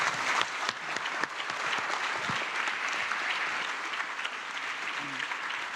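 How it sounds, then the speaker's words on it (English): Large audience giving sustained applause for Dr. Mahathir, with a few sharp individual claps at first, then a thick, steady roar of clapping that carries all the way through. "please give him the huge round of applause"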